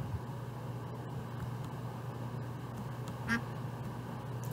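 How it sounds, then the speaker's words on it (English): Duck quacking in the Terraria video game, a short cluster of nasal quacks standing out once over a steady low ambient game hum, moderately loud with no talking. "Am I hearing a duck?"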